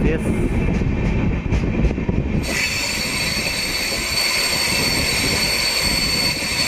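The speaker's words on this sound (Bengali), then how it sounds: "টানেলে ভিড়ে ট্রেনটা জাস্ট ঢুকছে দেখো" The 13149 Kanchankanya Express runs loud and close with a heavy rumble and squealing wheels, and its sound changes sharply as it enters a tunnel, then a steady enclosed roar with a high whine continues.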